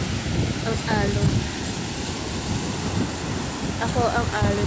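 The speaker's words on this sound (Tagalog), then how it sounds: "Ang alon." Ocean waves rolling onto the shore, a steady broadband wash of surf with wind buffeting the microphone, and a few brief voices and a dog-like sound in the background.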